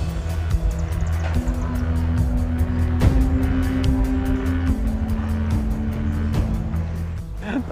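A car drives in nearby with a steady engine drone, a brief tire squeal and sustained motor noise that runs throughout.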